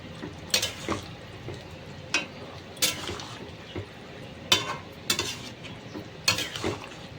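Sugar stirred into an egg, potato and pointed gourd curry in a pan: repeated metal spatula scrapes and clinks against the pan over a low simmering sizzle, close up.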